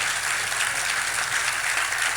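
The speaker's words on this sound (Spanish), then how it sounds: "aplauda, yo los dejo aplaudir" A church congregation applauding during a sermon, dense continuous clapping filling the room, loud and steady without voices.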